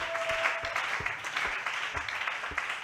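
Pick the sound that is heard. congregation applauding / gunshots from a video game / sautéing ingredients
congregation applauding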